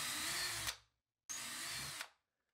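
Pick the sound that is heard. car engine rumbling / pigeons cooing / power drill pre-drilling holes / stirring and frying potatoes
power drill pre-drilling holes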